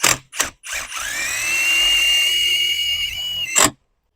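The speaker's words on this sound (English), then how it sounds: "use the self-tapping screws that it came with to bolt it all together with the pre-drilled holes that it comes with" A power drill drives self-tapping screws into pre-drilled holes on a metal hot tub cover lift, with short bursts, then one sustained high whining run of about three seconds, loud and close, with no talking.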